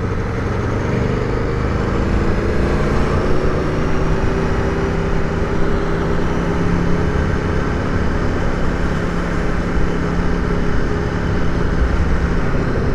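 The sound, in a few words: Aprilia Tuono V4 motorcycle engine riding in second gear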